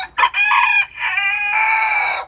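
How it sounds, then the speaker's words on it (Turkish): A single close crow from a Spanish (İspenç) rooster, loud and drawn out, starting with a short sharp note and rising into a long ringing call. "Evet ispenç horozumuz öttü."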